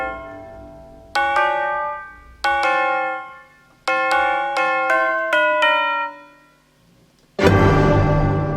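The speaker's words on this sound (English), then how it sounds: "Bells do a weird effect due to the harmonics they create." Bright bell tones from a fanfare composition ring out in separate struck hits, each decaying with rich overtones, a quick run of strikes near the end, then a loud sustained full chord.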